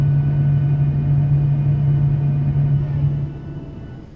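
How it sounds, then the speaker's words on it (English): Boeing 737-800 wing flaps extending in Microsoft Flight Simulator 2024, a steady low hydraulic-electric drone with a strong constant hum that runs for about three seconds before fading out, heard alone. "Classic 737 flap sound."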